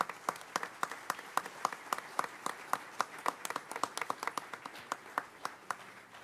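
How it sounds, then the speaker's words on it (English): Applause from a school board meeting audience, a fairly sparse set of distinct hand claps in an uneven rhythm, moderately close, without talk. "let's give them a round of applause for that work"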